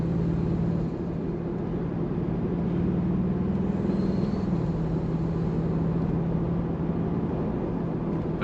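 Steady low road rumble and tire noise inside a 2025 Toyota 4Runner Trailhunter midsize SUV driving down the road, an even continuous drone with no talking.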